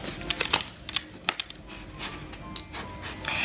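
A bone folder scrapes and rubs along cardboard being creased for a box, giving close, irregular rasping strokes and soft taps in quick succession.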